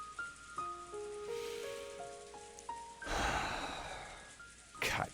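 Rain sound effect from the visual novel Umineko: When They Cry, a steady soft hiss of rainfall running beneath a sequence of gentle melodic notes, with a louder rush of rain swelling partway through.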